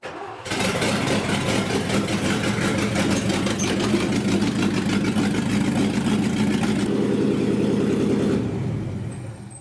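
A 1968 International truck engine, fed from a fuel hose into the tank, catches and runs loud and steady with a rough rumbling idle for about eight seconds before fading out near the end.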